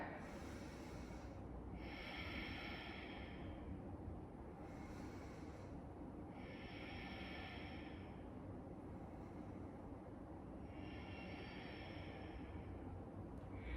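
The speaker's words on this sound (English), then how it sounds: "Close your eyes and take 3 breaths as you lift the heart." Slow, deep breathing in a wide yoga squat, with three long inhale-and-exhale cycles drawn through the nose, close and soft over a quiet background hum.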